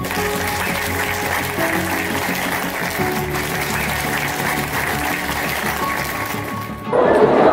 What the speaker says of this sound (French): C'est maintenant que vous pouvez acclamer.